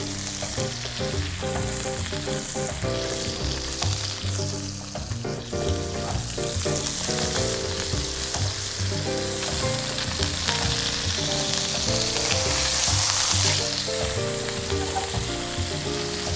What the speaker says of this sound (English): We're going to saute our tuna on both sides. We can add our scallops to it. And our shrimp.